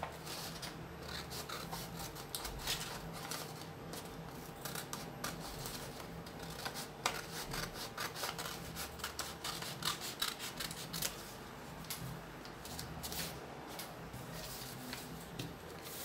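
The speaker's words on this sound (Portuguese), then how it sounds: "você vem aqui com a tesoura e corta essa tirinha que nós não iremos precisar." Scissors snipping a strip off a sheet of paper during a paper-folding bird craft, with repeated crisp cuts and rustling paper handling, close and moderately loud throughout.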